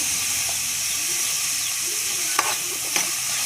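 Small onions sautéing in a hot pan with rock salt give off a steady sizzle and hiss, broken by a couple of sharp clinks as the mix is stirred.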